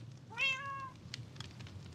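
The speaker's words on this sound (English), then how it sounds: "And then also, we have a cat." A single short, bright meow from a Minecraft cat sounds clearly over a low game ambience, followed by faint clicks.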